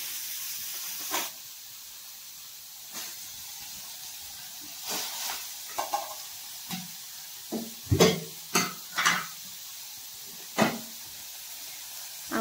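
Onion and tomato frying in oil in a pan for prawn masala, a faint steady sizzle broken by intermittent louder hissing bursts and stirring scrapes, with no voices.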